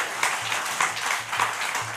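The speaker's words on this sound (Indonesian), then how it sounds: "saya minta tolong tepuk tangan untuk seluruh Eselon 1 Kementan" A crowd at a government food-security event in Bengkulu, Indonesia, claps in a steady, moderately loud patter of many hands, with a few sharper individual claps standing out near the microphone.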